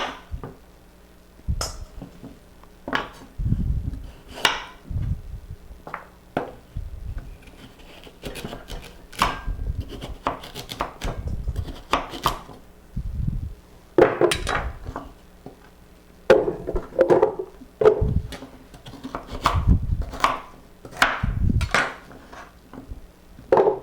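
A knife chops carrots into pieces repeatedly on a cutting board, with irregular knocks and crunchy cuts, close by and moderately loud, with brief pauses between bursts.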